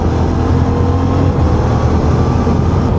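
A 2024 Suzuki V-Strom 800 DE motorcycle with a quick shifter upshifts while riding two-up, its engine droning loud and close over three seconds under heavy wind rush, with no clear break in the sound.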